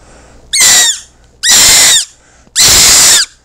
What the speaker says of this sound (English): That's even a higher pitched scream.